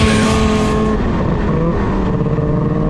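A Ski-Doo MXZ 800 Rev Sport snowmobile rides along winter trails, its engine droning loud and close in a steady, unbroken roar for the whole stretch.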